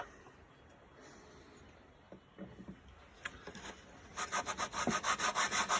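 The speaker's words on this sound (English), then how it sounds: "So yeah, a little bit of scrubbing." Wood being scrubbed by hand on an archtop guitar build, soft rubbing at first, then louder rhythmic back-and-forth strokes close by toward the end.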